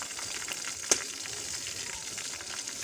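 Sliced onions, browned lightly, fry in a pan with ginger-garlic paste for a pea and chicken curry, producing a steady close sizzle with one brief clink of a utensil, and no talking.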